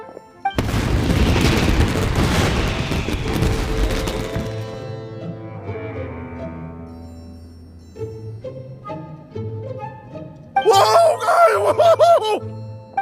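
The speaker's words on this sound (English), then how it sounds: "Yoimiya, this is turning into a bit of a fireworks display" Fireworks bursting in the video game Genshin Impact: a loud, booming cluster of explosions with crackling, then a ringing tonal decay before another bright burst near the end.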